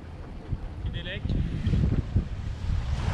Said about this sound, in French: Il y a 17 à 18 nœuds de vent